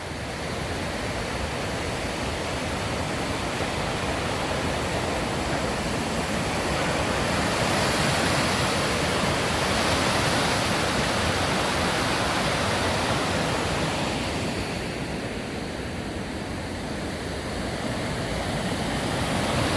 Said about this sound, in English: the clip you just saw there with the water going underneath the bridge